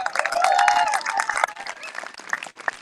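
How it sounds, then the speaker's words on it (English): Audience at a local political meet-and-greet clapping and cheering: a lively burst of claps and voices that is loudest at first, then thins and fades into scattered claps. "Give him a round of applause."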